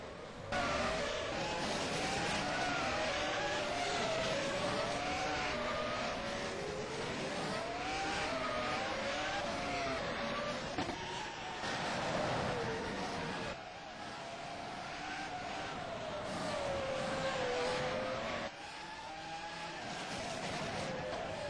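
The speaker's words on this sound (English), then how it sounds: "the cars will speed towards the end of the pit lane" Formula One cars in the rFactor F1 2011 racing sim, at Monaco, scream past in a continuous high-revving engine whine that rises and falls with gear changes, loud and sustained throughout.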